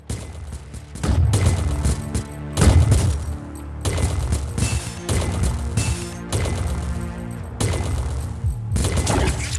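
Rapid volleys of gunfire from the guns in the iOS iPhone game Glitchskier, loud, close bursts repeating in a steady rhythm over a pulsing electronic backdrop, with no talk.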